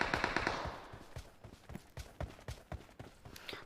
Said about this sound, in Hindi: सामने से AKM चल रही है